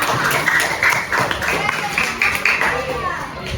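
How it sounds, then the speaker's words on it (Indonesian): A classroom of children clap together in a dense, steady patter of hand claps, with kids chattering and calling out over the applause throughout. "Kita tepuk tangan dulu untuk kita semuanya"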